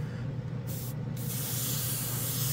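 A Master G79 3-in-1 airbrush sprays thinned paint in a wide pattern, giving a steady, loud, close hiss of air and atomized paint that runs continuously with brief dips.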